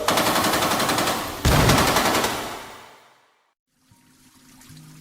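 Rapid machine-gun fire rattles loudly in dense bursts as troops open fire through a portal in a fantasy battle scene, a sharp blast partway through, then the barrage fades to near silence before faint rumbling returns.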